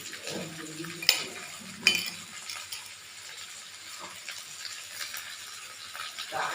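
A fish head sautés in a pan with salt, giving a soft steady sizzle with a couple of sharp utensil clinks early on and occasional light stirring scrapes throughout.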